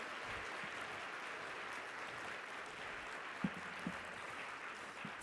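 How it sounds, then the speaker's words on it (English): Steady, fairly faint applause from a conference plenary audience, an even wash of many hands clapping throughout with a couple of brief thumps near the end. "Let's give one more round of applause"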